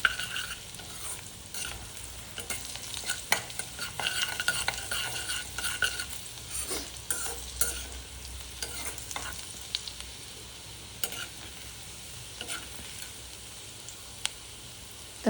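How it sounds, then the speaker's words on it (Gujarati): Asafoetida, garlic and chillies sizzle in hot oil as a spoon stirs them, a steady crackling fry broken by light scrapes and clicks against the pan, with no talking. "તમે જોઈ શકો છો કે કેવી રીતે હિંગ ને લસણ મરચાં બધું અંદર સંતળાઈ ગયું છે વ્યવસ્થિત તેલમાં"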